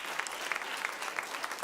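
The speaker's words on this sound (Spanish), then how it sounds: "Dele un fuerte aplauso al Señor." A church congregation claps together in a brief, steady burst of applause, moderately distant, with a few sharper individual claps standing out.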